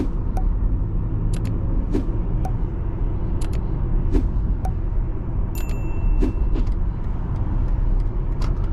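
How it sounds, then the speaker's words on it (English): Inside a 2024 BMW iX driving on the road, a constant heavy low rumble of road noise fills the cabin, with scattered sharp ticks and a few faint high beeps over it. "We're gonna get off cruise control and just go for a drive here."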